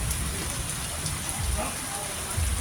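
Moderate rain pours down steadily after a spell of intense heat, a dense continuous hiss of drops striking surfaces close by, with a faint low rumble underneath and no voices.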